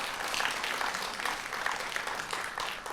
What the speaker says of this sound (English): let's give the city of Vine Grove a big round of applause for hosting this today